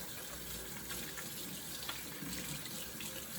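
Hands are rinsed under a steadily running kitchen tap while preparing to cook with kids, water splashing continuously and close by for the whole stretch, with no talking.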